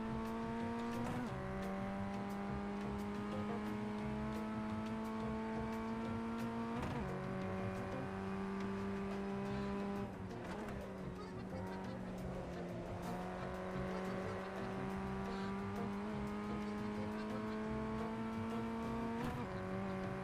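Ray FF1600 open-wheel race car lapping Oulton Park in a sim racing game, its engine droning steadily and rising in pitch through each gear before dropping at shifts and braking, with occasional tire scrub, continuous and loud throughout.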